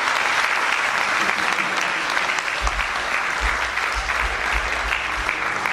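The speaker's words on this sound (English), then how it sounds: "Will you clap your hands now?" A church congregation claps steadily and loudly during the hymn Joy to the World, a dense wash of applause with some voices mixed underneath.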